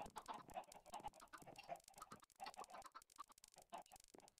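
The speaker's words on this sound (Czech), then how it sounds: "Myslím, že tady budeme mít teďka hodně slepic okolo." Many chickens in the Minecraft video game cluck in quick overlapping bursts, busy and continuous, close at moderate level with short gaps between clusters.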